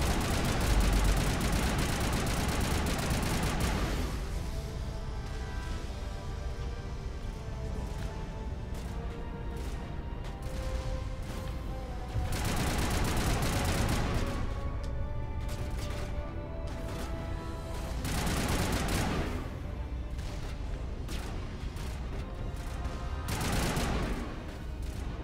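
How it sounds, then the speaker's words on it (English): Turret gunfire in the video game Mass Effect: dense, continuous automatic bursts that swell in several loud waves, close and unbroken across the whole stretch, with no talk over it. "Guys, take cover from those turrets."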